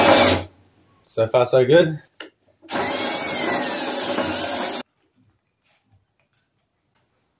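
A power drill with a small 10 mm bit bores into a sailboat daggerboard and bulb, giving a loud, steady whine for about two seconds that stops abruptly, after a short burst of nearby speech.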